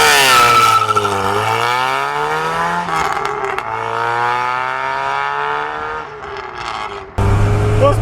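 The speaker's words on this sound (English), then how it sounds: "I think that's an aftermarket exhaust." A loud 1984 Mk1 VW Rabbit GTI engine with an aftermarket exhaust, raspy and throaty, revs up and down in long sweeps, close by, ending with a sudden noisy change.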